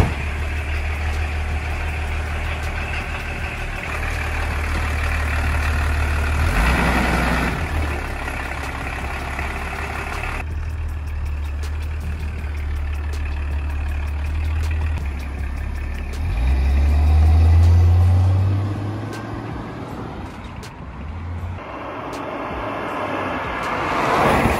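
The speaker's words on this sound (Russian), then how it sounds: "Но мотор завелся, и это уже круто. Сейчас едем," An old BMW engine runs close by with a rough, steady idle, then revs up in a rising growl as it pulls away and drives; no speech.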